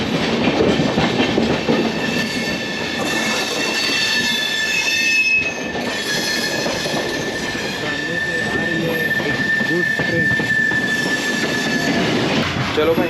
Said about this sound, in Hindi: और ये आ गई अजमेर एक्सप्रेस,